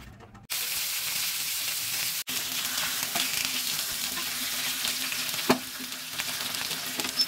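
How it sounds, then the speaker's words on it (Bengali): Steady, dense sizzling of pomfret fish shallow frying in oil, close and continuous, with a brief cut early and a few louder spatters. "দিয়ে ভাজা করে নেবো, বেশি নয়, শ্যালো ফ্রাই"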